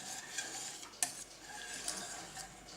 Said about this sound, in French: On remue lentement